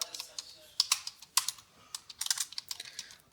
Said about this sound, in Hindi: भाई ये कीबोर्ड ही सही चल रहा है।